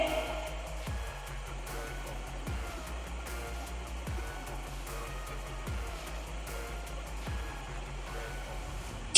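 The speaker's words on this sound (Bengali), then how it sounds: "ঠিক এমনটি আমি উল্টিয়ে পাল্টিয়ে ভেজে নিচ্ছি" Chop fritters frying in hot oil while being turned, giving a steady, dense sizzling hiss with a few soft knocks and bumps spaced through it.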